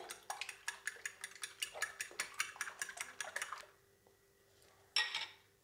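A utensil whisks eggs with salt and black pepper in a bowl, giving a quick, even run of close clinking taps that stops, followed after a pause by one louder clatter.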